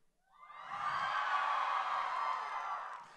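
A crowd of students screams loudly in one sustained, swelling roar lasting about three seconds before it fades slightly.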